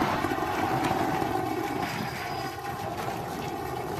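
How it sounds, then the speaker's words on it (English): A SpaceX Starship Super Heavy booster fires 13 engines in its landing burn before a tower catch, heard as a steady, broad, distant roar with no talking. "Booster landing burn. Seeing 13 engines."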